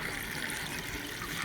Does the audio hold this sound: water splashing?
yes